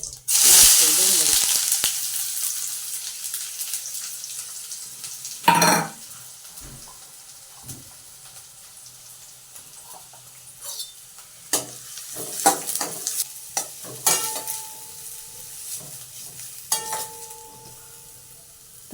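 Chopped onion hits hot oil already seasoned with mustard seeds, cumin, curry leaves and fenugreek seeds for Gujarati sev-onion, giving a loud initial sizzle that settles into a quieter crackle, with stirring, pan clinks and light scattered noises.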